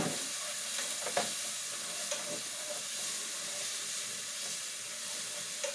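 Moist food stirred in hot oil, with a steady, bright sizzle running throughout and occasional scrapes and clinks from the utensil. The sound is close and continuous, with no talking.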